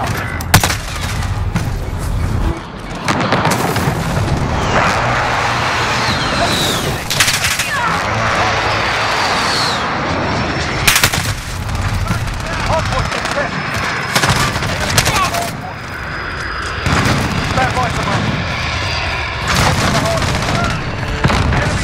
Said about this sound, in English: Be advised, friendly position airstrike inbound.